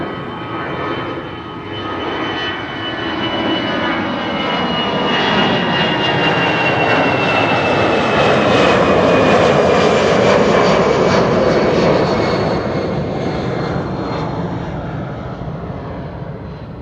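A passenger jet passes at Amsterdam Schiphol Airport, engine roar swelling from a distant rumble to a loud peak mid-way with a whining tone sliding downward, then easing off as it moves away; no voices.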